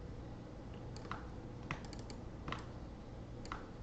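Keyboard and mouse clicks sound at a computer during 3D modeling work, coming as a few light, separate taps and clicks over a steady background hiss.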